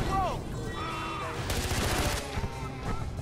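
Rapid gunfire in the video game Far Cry 4, a dense crackle of shots with a game music bed underneath and a brief spoken line near the start.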